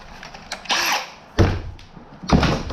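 Short bursts of an electric drill whirring, three separate pulses with brief gaps, fairly close and loud, no voices.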